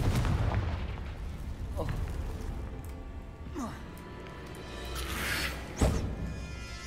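A Confringo spell in the video game Hogwarts Legacy bursts in a sharp blast near the end, rising out of rumbling game ambience with a few earlier thumps and faint voice sounds.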